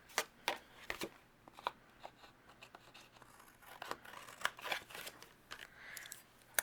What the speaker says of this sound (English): I'm going to go ahead and open up my card and trim off the excess.